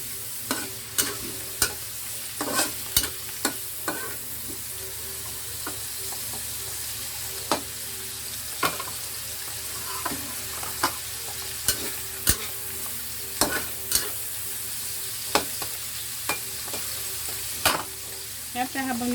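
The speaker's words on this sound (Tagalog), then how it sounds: "habang niluluto natin yung mushroom" Mushrooms sauté in hot oil for a burger steak, a steady close sizzle punctuated by frequent sharp clacks of a utensil against the pan throughout, with no talking.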